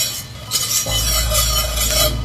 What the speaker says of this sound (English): some of these beans are really light colored, which means that stirring them is a little bit of a challenge here